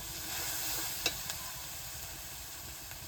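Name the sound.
spice paste with dried chilli and pepper frying over wood fire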